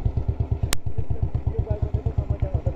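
A dirt bike engine runs close by and shakes hard with vibration, giving a steady, rapid thumping pulse with rattling clatter. One sharp click cuts through early on.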